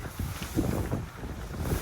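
Gusty wind buffets the microphone in a low, uneven rumble, with no one speaking.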